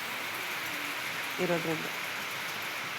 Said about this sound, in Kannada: ತುಂಬ ಮಳೆ ಬರ್ತಾ ಇಲ್ಲ, ಲಿಟಲಾಗಿ ಮಳೆ ಬರ್ತಾ ಇದೆ.